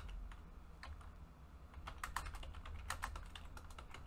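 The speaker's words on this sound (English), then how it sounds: "you will need to type using the keyboard" Keystrokes on a computer keyboard while setting up a free-play scenario in the RealFlight Evolution flight simulator, an irregular run of close, crisp clicks with short pauses, no talking.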